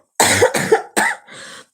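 A person with a sore throat coughs three times in quick succession, followed by a softer fourth cough, close and loud with no talking.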